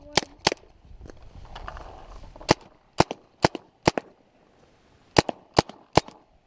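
Paintball marker shooting hot outdoors, firing sharp loud shots in quick pairs and short bursts separated by brief pauses, with faint background noise and no voices.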